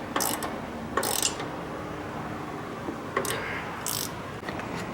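A ratchet snugs down bolts on a Honda Accord 2.2 non-VTEC engine during a timing belt and water pump replacement, giving close, brisk bursts of clicking separated by short pauses over a steady background hum.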